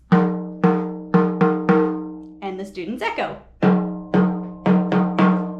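Hand claps ring out in a short rhythmic pattern, a spoken phrase, then the same pattern echoed back, each clap decaying quickly.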